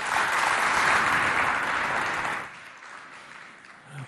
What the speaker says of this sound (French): je voudrais qu'on applaudisse pour les encadreurs des deux écoles